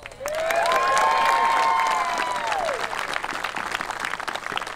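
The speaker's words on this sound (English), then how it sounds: "Let's give them a round of applause." Applause and cheering from a crowd at a children's Rippa Rugby championship medal ceremony, a sustained burst of clapping that swells quickly, with scattered whoops and whistles, then slowly thins.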